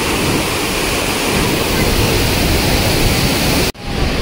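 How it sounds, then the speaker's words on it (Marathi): Randha waterfall at Bhandardara pours in heavy monsoon flow, a dense, loud, unbroken roar that cuts off abruptly near the end. "फक्त वॉटरफॉल बघा मित्रांनो, काय त्यांनी रुद्र रूप घेतलंय"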